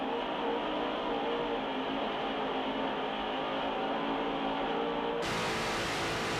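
A Mercury-powered 46-foot Skater racing boat's engine roars in a loud, constant drone, with a sudden shift in tone near the end.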